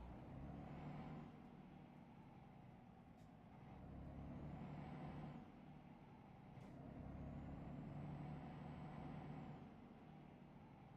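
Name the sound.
truck driving in a trucking video game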